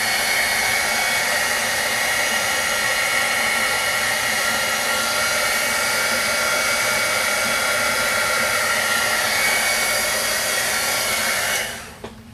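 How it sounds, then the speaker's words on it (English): A heat tool blows steadily at close range to dry stamped ink on a craft piece, a loud constant whooshing roar that cuts off just before the end. "I'm going to come in and I'm going to heat set that a little bit"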